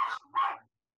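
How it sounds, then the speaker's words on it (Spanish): Dogs in a video game bark twice, close and fairly loud, with a short gap between the two yappy barks and then silence. "Que se callen los perros."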